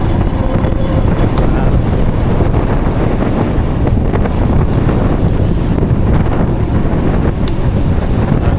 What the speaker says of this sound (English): I can feel the wind take a hold